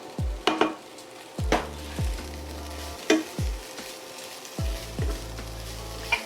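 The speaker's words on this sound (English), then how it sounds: "that's gonna saute for about 45 seconds, no more than a minute, because you don't wanna burn your garlic" Garlic sautéing in a hot pan for a beef and broccoli stir-fry, with a steady close sizzle broken by several sharp clanks and scrapes of a utensil against the pan, no voices.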